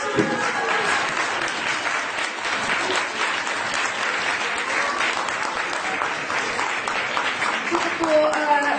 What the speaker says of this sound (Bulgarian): Доктор Ружа Игнатова се наслаждава на вашите аплодисменти